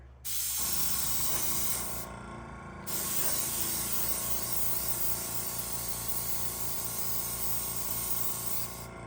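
An airbrush sprays dye onto leather in a continuous close hiss with a compressor hum beneath it, pausing briefly once before the spray resumes and runs steadily to the end.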